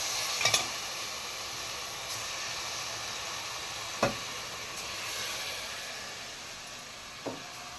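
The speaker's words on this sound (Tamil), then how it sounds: "இப்போ உப்பு போட்டுக்கலாம் தக்காளி வதங்கிறது இப்போ நல்ல மசாலா வதங்கிருச்சு இப்போ அரிசியை போட்டுக்கலாம்" Tomato masala and rice stirred and sautéed in a pan, with a soft continuous sizzle and a few sharp spoon knocks against the pan spaced several seconds apart.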